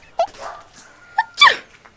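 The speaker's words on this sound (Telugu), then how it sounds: "పోచిటి తల్లి బంగారు తల్లి కుక్క" A dog gives a few short, sharp barks and yips close by, scattered across a couple of seconds with quiet gaps between them in a village setting.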